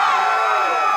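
An audience at a Coheed and Cambria acoustic set at the Gallery of Sound in Wilkes-Barre cheers and whoops, a loud, dense, steady roar of many voices filling the whole moment.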